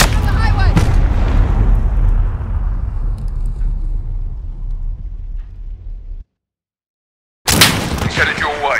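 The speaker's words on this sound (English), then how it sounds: "Those shots came from the highway!" Booming gunfire and deep blasts in Call of Duty: Modern Warfare, loud and rumbling, trailing into a long fading tail, then a sudden drop to silence before another loud burst with voices.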